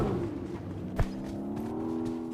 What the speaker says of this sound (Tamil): வாங்க, வண்டி வருது